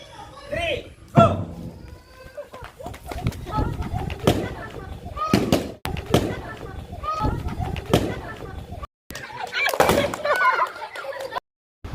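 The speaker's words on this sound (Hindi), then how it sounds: "सोनाक्षी की टीम और रवि किशन की टीम लगातार मेहनत करके बैलून को फोड़ने का प्रयास कर रहे हैं" Children pop balloons in a balloon chair game at a school, sharp irregular bangs and thuds mixed with lively shouting and a voice talking throughout.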